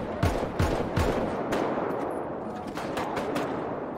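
Rapid bursts of video game gunfire, several close sharp shots early followed by denser machine-gun style firing that continues steadily throughout, with no talking.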